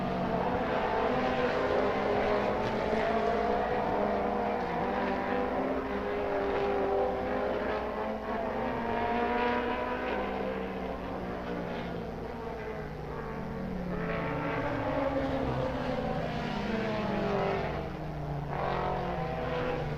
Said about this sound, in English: Your hot lap session will come up after the mini stocks complete their hot lap qualifying.